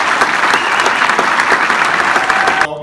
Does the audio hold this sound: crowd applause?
yes